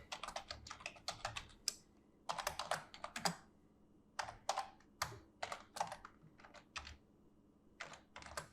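Computer keyboard typing in short irregular bursts of clicks with brief pauses between, close and fairly quiet, with no talking.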